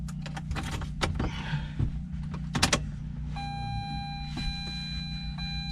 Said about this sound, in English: make sure the fuel pump goes